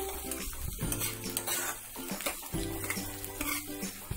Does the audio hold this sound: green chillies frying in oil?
yes